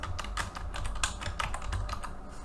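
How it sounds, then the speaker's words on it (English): Quick keystrokes on a computer keyboard while entering a database search term, a steady run of close, crisp clicks with no voices. "if I type in substance abuse"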